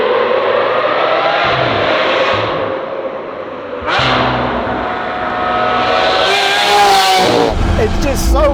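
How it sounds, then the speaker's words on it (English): A Lamborghini Aventador SV Roadster engine roars close by on the Autobahn, roof off, revving up and down through gear changes, with a sharp burst of acceleration near the end; a voice talks over it. "It's so accentuated purely because you can hear that car."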